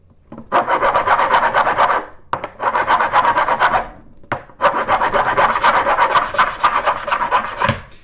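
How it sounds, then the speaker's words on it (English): A metal file rasps in three long, steady strokes, filing the tang off a guitar fret held in a nipping tool, with short pauses between them, close and loud, and no one talking. "there's a little bit of a change in the sound of the file as the tang is removed"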